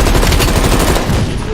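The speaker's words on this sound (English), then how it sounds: "Watch it, heavy MG on the ridge." Heavy machine gun fire in the video game Call of Duty Black Ops Cold War, a loud, dense, continuous burst of rapid shots that fills the whole moment, with no pauses and no talk over it.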